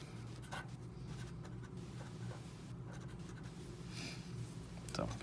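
Pen or marker scratching out a symbol on a board during a chemistry lecture on decay series, soft scratchy strokes close by in a quiet room, with a hum underneath.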